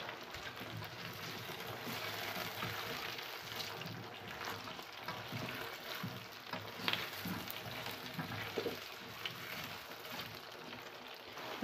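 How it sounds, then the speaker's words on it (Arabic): Carrots, potatoes and onions are stirred in a hot pan, giving a steady, close sizzle with soft scraping and clinks from the spoon running throughout. "بقلب في الجزر والبطاطس والبصل"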